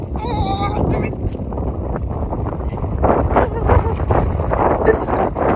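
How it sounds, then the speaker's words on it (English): Strong wind buffets the microphone outdoors on a cold hike to Hengifoss waterfall in East Iceland, a continuous rough roar throughout, with people talking and exclaiming over it. "Oh, the wind."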